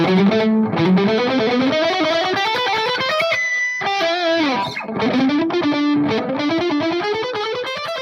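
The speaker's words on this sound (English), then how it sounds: "you can also, if you try a little palm mute" A heavily distorted electric guitar plays a chugging, palm-muted riff with sliding pitches and rhythmic, choppy attacks, loud and close.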